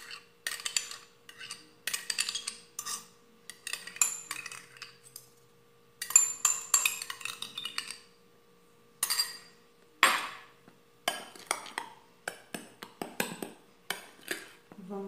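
Metal utensil scraping and clinking against a bowl while egg whites beaten with sugar are folded together with boxed cream, in repeated short bursts with brief pauses, fairly close and moderately loud.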